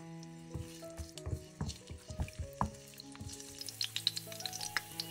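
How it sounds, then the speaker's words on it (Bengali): Whole spices, bay leaves, cardamom, cloves and cinnamon pieces, sizzle and crackle in hot oil for an egg korma, with close, irregular pops and spits over a steady frying hiss, no talk. "তারপর আমি 2টি তেজপাতা, 3টি এলাচ, 3টি লবঙ্গ ও 2টি দারচিনির টুকরো তেলে দিয়ে দিব।"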